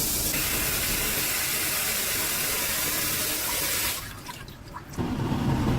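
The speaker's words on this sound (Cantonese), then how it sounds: "將所有材料略為沖洗乾淨後備用。" Ingredients for stir-fried yam with asparagus are rinsed under a running tap, giving a steady close splashing rush. It stops briefly near the end before the flow starts again.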